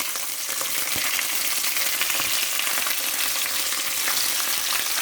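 Butter sizzles loudly in a hot pan while chunks of beef chuck brown, a steady dense crackle with a few stirring knocks.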